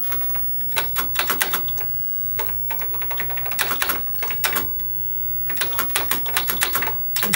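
Keys clack on an Apple II+ microcomputer keyboard in quick irregular bursts of sharp close taps, with short pauses between clusters and no voices.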